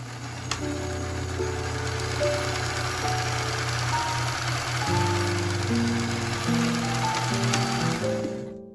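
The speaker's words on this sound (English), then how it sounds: "sew them together along this back seam and then use my serger to finish that edge" A serger sewing machine runs fast along a fabric seam, finishing the edge on a piece of clothing made from an old dress. The stitching is a steady, close mechanical whir with brief pitch shifts as it runs and slows, and no voices can be heard.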